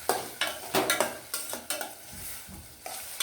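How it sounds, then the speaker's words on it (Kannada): Yellow pumpkin palya with ghee being stirred in a pan gives a quick, irregular run of scraping spoon strokes and soft clanks over a faint sizzle, close and fairly quiet. "ಇವಾಗ 1 ಟೀ ಸ್ಪೂನಷ್ಟು ತುಪ್ಪನ ಹಾಕ್ಕೊಂಡು ಚೆನ್ನಾಗಿ ಕಲಿಸ್ಕೊತಾ ಇದ್ದೀನಿ."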